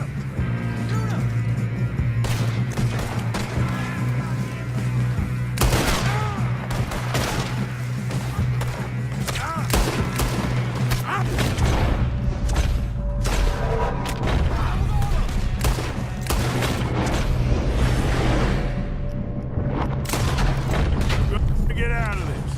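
Rapid gunfire and booming shots crack through a Red Dead Redemption 2 shootout, dense and continuous for over twenty seconds, with characters shouting over the battle.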